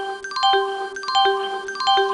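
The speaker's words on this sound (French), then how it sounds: "Il sonne pour alerter les gens qui sont autour de lui qu'il y a de pas peu, qu'il y a danger." Emergency alarm sounding after the emergency button is pressed, a repeating electronic chime of descending tones cycling three times in quick succession, clear and close with no talk.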